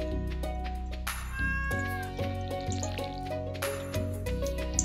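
Repeated meows of a cat in the farming video game Stardew Valley ring out clearly over steady in-game music and ambient background sounds.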